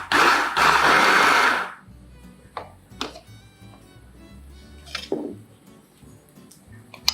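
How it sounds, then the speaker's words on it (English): A kitchen blender grinds boiled beef for homemade cat food in a loud, dense whir lasting nearly two seconds, followed by quieter scattered clinks and knocks of handling. "After cool down, put the meat in the blender."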